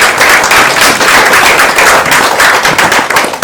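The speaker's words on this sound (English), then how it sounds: "Ladies and gentlemen, a big round of applause for Dr." Dense, loud applause from a festival audience welcoming speaker Dr. Niraj Singh at a mental health and wellbeing mela, sustained and even for several seconds with no voices over it.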